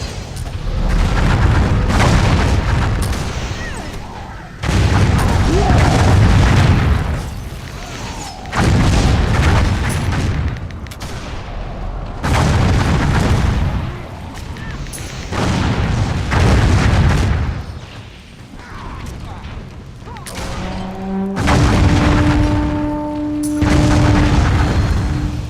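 Artillery from cannons in the online fantasy battle game Warhammer Online, a steady series of deep booms and blasts in loud waves across the whole stretch, with a brief tonal game effect near the end.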